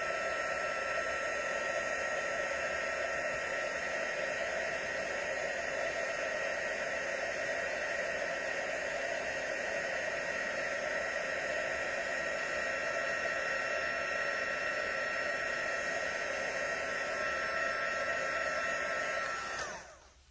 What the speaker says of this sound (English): So I'm just going to heat emboss this.